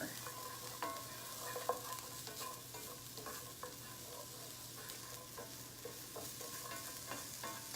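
Onion cooking down and caramelizing in a pan, giving a steady soft sizzle at low volume with occasional light stirring scrapes and clinks throughout, no voices.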